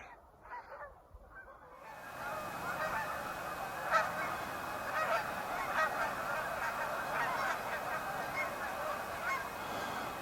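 Geese honk repeatedly from open water some distance away, a dense overlapping chorus of nasal calls that starts after a brief quiet moment and carries on steadily.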